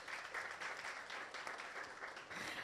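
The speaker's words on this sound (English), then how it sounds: "A round of applause for her." A summit audience gives a round of applause for a PR speaker, dense steady clapping from many hands, alone and continuous throughout.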